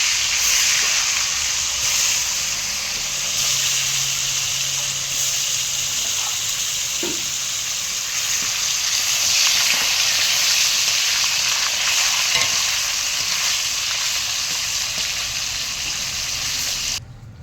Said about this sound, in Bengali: মাছটা এবার আমি ভাজতে দিই, হালকা করে মাছটা ভেজে নিই।